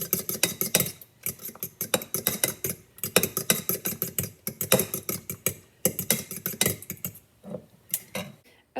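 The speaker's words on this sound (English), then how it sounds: "So what we're gonna do is we're gonna kind of mix the egg whites together a little bit." Egg whites whisked briskly in a bowl with a utensil, a fast run of close, clinking strokes in bursts separated by brief pauses, with no talking.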